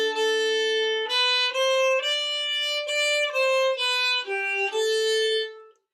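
A violin plays a short passage of separate, individually bowed notes without slurs, each pitch changing cleanly about once a second; the tone is close and steady, with no talking.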